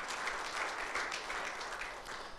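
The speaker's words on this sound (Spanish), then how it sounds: "Démosle un fuerte aplauso al Señor" A church congregation gives the Lord a loud round of applause, producing a continuous wash of many hands clapping at steady volume.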